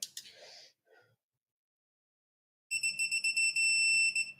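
A steady high electronic tone with stacked pitches sounds loud and close after a brief breath and a stretch of silence.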